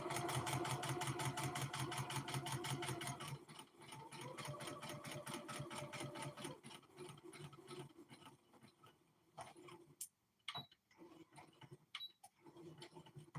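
A sewing machine stitching a tote bag runs in a fast steady whirring rhythm for several seconds, then slows into shorter bursts broken by small clicks and handling noises, fairly quiet overall.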